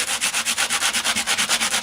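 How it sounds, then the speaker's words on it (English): A sanding block rubs lightly over debossed card pieces for a handmade thank-you card, making a close, steady rasping stroke repeated about eight times per second, even and rhythmic with no talking. "we are going to begin by sanding them down lightly"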